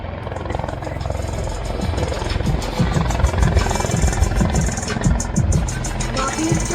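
Steady thumping rotor and engine roar of an Indian Army ALH military helicopter passing nearby, continuous and fairly loud throughout.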